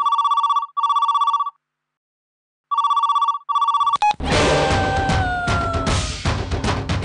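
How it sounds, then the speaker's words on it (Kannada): A telephone rings late at night with short bursts of electronic trilling, two rings separated by silence, then the ringing cuts off and a busy noisy background with music-like tones takes over. "ಇಷ್ಟೊತ್ತಲ್ಲಿ ಯಾರು ಫೋನ್ ಮಾಡ್ತಿದ್ದಾರೆ"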